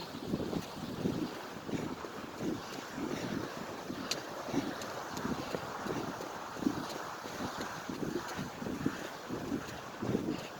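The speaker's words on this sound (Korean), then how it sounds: "물소리, 계곡 물소리 들리실까요?" Mountain valley stream in Naejangsan National Park, water rushing steadily and softly at a distance, a continuous gentle wash with light wind noise and no talk.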